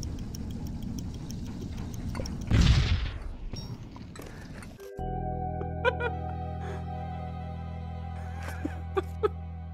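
A grenade goes off in the VR puzzle game I Expect You To Die: one loud, sharp blast with a trailing rumble, followed by steady electronic humming tones and a few faint clicks.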